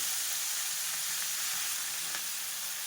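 Chopped, washed fenugreek leaves frying in oil in a kadai, a steady bright sizzle and hiss throughout with a couple of faint crackles.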